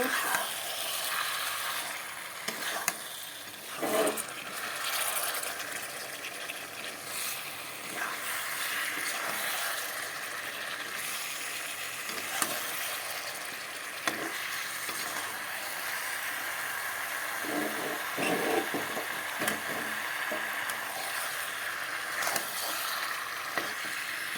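Chicken and potatoes fry in a pan with a low, continuous sizzle, while a spoon scrapes and stirs them at intervals, sending sharp clinks and scraping bursts over the hiss.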